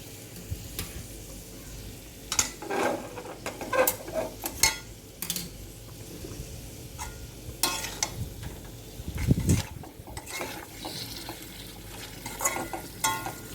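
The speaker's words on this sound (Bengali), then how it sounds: "এবার আলুগুলো দিয়ে মশলাটার সাথে ভালো করে মিক্স করে আলুগুলো একটু কষিয়ে নেব।" Potatoes sizzle and are stirred with a spice mix of turmeric and chilli powder in a pan, with a steady fry and repeated scraping and clinking of a spatula, close up and without talk.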